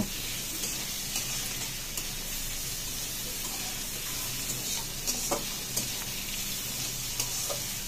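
Brussels sprouts sizzle steadily in a frying pan as they are stirred into the mixture, a constant hiss broken by occasional soft scrapes and light taps.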